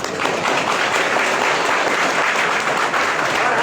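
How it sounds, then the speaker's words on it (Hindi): A standing crowd at a spiritual education gathering claps loudly and continuously, a thick even roar of many hands filling the whole stretch. "जोर से ताली बजाइए"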